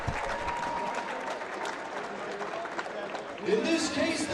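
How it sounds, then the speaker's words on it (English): Crowd applause and cheering for two fighters after a full-distance bout at a live fight event, steady broadband clapping throughout with a louder swell near the end. "how about a round of applause for these two great fighters going the distance?"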